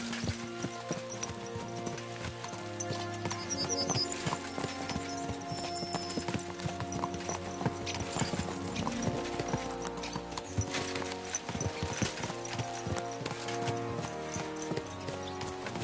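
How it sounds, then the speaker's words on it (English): Horses' hooves clip-clop steadily in the Kingdom Come Deliverance II video game, a rhythmic clatter of several horses beneath continuous orchestral music, with no talking. "Let's really spur these horses on, eh?"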